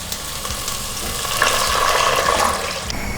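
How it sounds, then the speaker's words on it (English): Water pours steadily into a pot over a sizzling wok mixture of aromatics and soy sauce for poached chicken, a continuous rushing splash close by with no talking. "And you want to fill it up with water"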